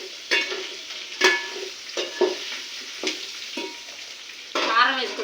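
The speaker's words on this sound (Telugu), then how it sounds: "చికెన్ వేగింది ఫ్రెండ్స్, చూడండి." Chicken curry fries in a pot over a village wood-fired stove, with distinct scraping stirs every second or so over a low, steady sizzle, close and fairly loud.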